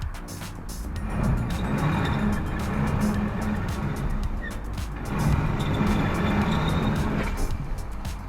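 Hyundai Kona AWD straining off-road with traction control disabled and center diff lock on during a three-wheel slip test, engine droning steadily at moderate volume with surging effort and crunching ground noise throughout, no talk.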